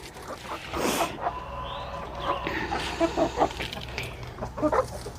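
Chickens in a coop give soft, scattered clucks and murmurs at a distance, faint against a rustling background with a few sharper calls near the end.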